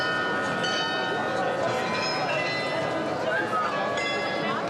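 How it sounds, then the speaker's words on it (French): The carillon of Marienplatz in Munich rings its bells, a steady run of melodic tones under a French narrator's voice, with a busy square's background hum beneath. "résonne 3 fois par jour le carillon de la Marienplatz"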